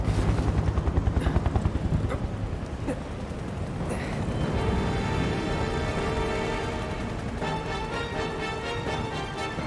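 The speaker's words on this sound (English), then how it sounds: "The helicopter's sounding awfully close." A helicopter passes close by in the video game Final Fantasy VII Remake: a loud, steady rotor roar with rapid thumping blade pulses at first, mixed with game music and ambience, with no talk.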